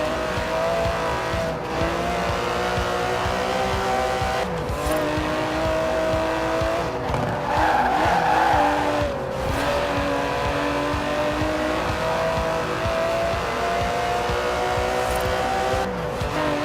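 Aston Martin DB11 with a 5.2-litre twin-turbo V12 in the Forza Horizon 4 racing game, a steady, loud engine drone with shifting pitch and brief tire squeal, continuous throughout.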